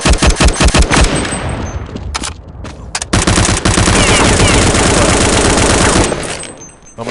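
Rapid automatic gunfire from Counter-Strike 1.6 on the dust2 map, loud bursts and sustained fusillades with brief gaps, nearly continuous across the whole stretch.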